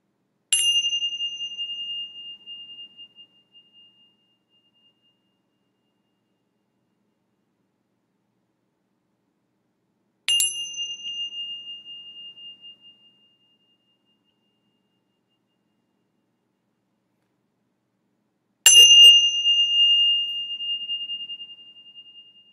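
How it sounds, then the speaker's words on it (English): Three meditation bell strikes, each a clear ringing tone that slowly fades, spaced several seconds apart in an otherwise silent setting; the third strike is slightly louder. "Just come back to the sound of the bells."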